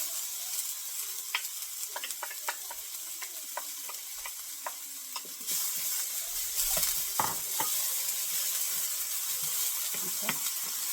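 Chopped onion and garlic sizzle in about a tablespoon of hot oil, with scraping stirs and clicks of a utensil against the pan, the frying growing louder midway through.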